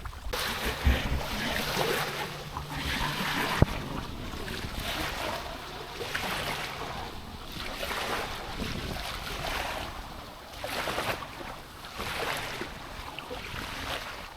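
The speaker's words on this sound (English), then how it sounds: "Now the winds only just started gusting briefly" Gusting wind over rough waters of the Gulf near Fort De Soto and Shell Key, a blustery roar buffeting the microphone with swells and lulls, with waves washing and sloshing underneath and one sharp knock.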